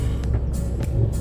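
Car traffic on a jammed road, a steady low engine rumble with brief swishes of vehicles passing close by, no talk.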